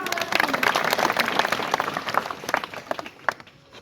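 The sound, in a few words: audience applause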